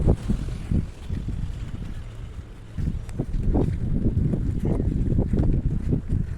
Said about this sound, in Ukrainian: ось я виходжу на море. Ось тут у нас порт.